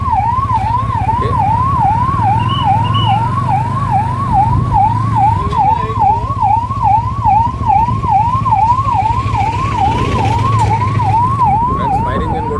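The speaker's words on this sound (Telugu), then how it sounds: "ఫైర్ ఇంజిన్ కూడా ఉంది ఇక్కడే." A fire engine siren wails in a rapid, steady up-and-down cycle throughout, loud and fairly close, over the low rumble of an idling engine at a crowded outdoor event.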